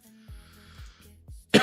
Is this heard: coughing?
yes